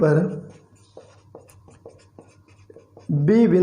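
A marker or chalk writes on a board in a quick series of short taps and strokes, fairly faint, between stretches of someone talking.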